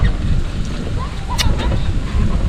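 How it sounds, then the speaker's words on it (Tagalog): Wind blowing across an open outdoor park in Magalang, Pampanga, a steady low rumble of gusts buffeting the microphone throughout, with faint background activity and no clear talk. "Tahimik, mahangin."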